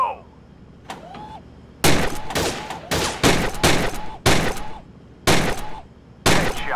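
Heavy weapon firing in the VR shooting game Gun Club VR, S.W.A.T. add-on: sharp, loud bursts of fire in a steady series of about eight volleys, each followed by a brief ringing tail, close and with no talk over it.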